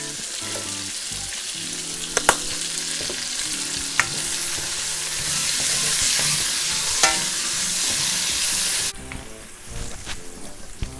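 Green chili peppers seasoned with salt sizzle loudly as they are stir-fried in a hot wok, a steady crackling hiss punctuated by sharp clanks of the spatula against metal, easing off near the end.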